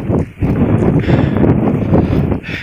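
Strong wind buffets the microphone on the Surya Kencana mountain plateau of Gunung Gede, a loud, gusty roar that rises and falls, with a brief dip partway through.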